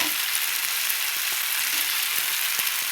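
Tomatoes and turmeric frying in a pan give a steady broadband sizzle, with a few soft scraping knocks from stirring scattered through it; close and continuous, with no voices.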